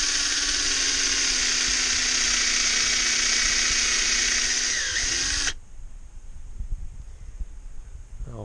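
A power drill bores a hole into a birch tree to tap its sap. The high, steady whine runs loud for about five seconds, then cuts off abruptly and leaves faint rustling and handling sounds.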